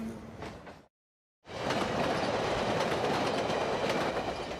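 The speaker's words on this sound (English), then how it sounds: "Train." A train rumbles past on the rails with rhythmic clatter, loud and close, continuing steadily after a brief cut to silence.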